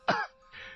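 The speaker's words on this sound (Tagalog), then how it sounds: "Walang tigil ang pag-ubo ng binata." One short, rough cough or throat-clear, close by and fairly quiet, trailing into a softer breathy rasp.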